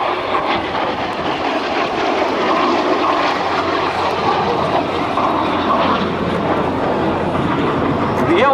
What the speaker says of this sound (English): And from the right, Crunchy comes in for a show pass.